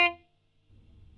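A plucked note on an instrument is cut off abruptly after a fraction of a second, leaving near silence and then faint low background noise.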